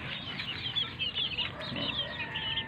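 Yellow-legged chickens cluck steadily in a farm flock, a dense overlapping chorus of hen calls running throughout, fairly close and continuous with no talk.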